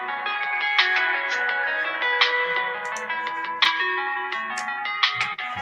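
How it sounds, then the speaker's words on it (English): A phone ringtone plays a steady bright electronic melody, close and continuous, with faint clicks and knocks over it and no talking. "That must be his phone."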